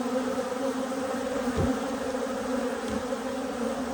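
Honey bees swarm around an open hive being inspected in the morning, making a steady, dense buzz that stays close and loud throughout with no voices.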